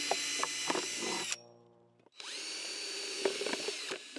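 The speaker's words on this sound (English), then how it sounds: "we're going to drill holes in the bottom of this." Power drill boring drainage holes in the bottom of a plastic container, two loud whirring bursts with grinding bites, separated by a brief spin-down pause, close up and without speech.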